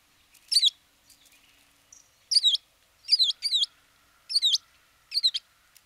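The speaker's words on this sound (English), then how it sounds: "So first I'm going to play the American tree sparrow." Recorded American tree sparrow call notes: sharp, high, twittering chirps in short paired bursts, about seven spaced calls over quiet background, clear and close.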